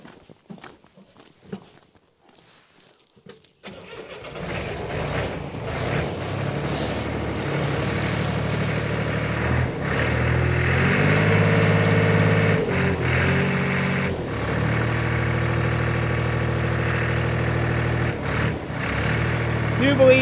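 A Teledyne Princeton D-5000 diesel engine on a Moffett three-wheel-drive forklift starts after a few faint knocks, then settles into a steady loud idle and revs up and down in waves with rattling under it.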